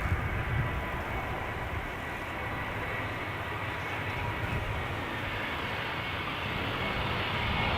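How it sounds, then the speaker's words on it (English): A Lufthansa Airbus A320 airliner arriving at Amsterdam Schiphol from Frankfurt, its engines producing a steady, broad roar at moderate distance that holds evenly throughout with no talk over it. "Lufthansa flight 988 arriving from Frankfurt. A320."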